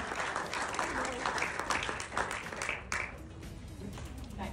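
A large stadium crowd at a women's cricket match for the Adelaide Strikers, cheering and applauding in a loud, steady roar of clapping and shouts for the whole stretch, with a swell near the end.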